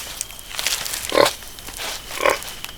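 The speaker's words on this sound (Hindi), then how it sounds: "जंगली सुअर।" Wild boar grunting in two short, rough bursts a second apart, moderately close and fairly loud over a faint outdoor background.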